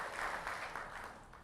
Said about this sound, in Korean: 우리가 더 뜨겁게 환영하는 의미로 박수 한번 좀 치면 어떨까요?